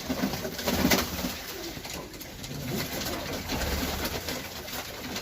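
Buhara and Mantolu breed pigeons cooing and murmuring nearby, a steady low rumble of calls with some flapping or shuffling noise in the background.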